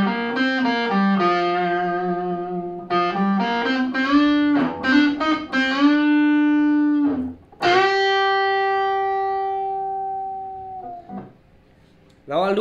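An electric guitar plays the fourth phrase of the solo from a song, with a distorted tone and chorus effect. Clear single notes and long sustained bends ring out, then the phrase fades away near the end.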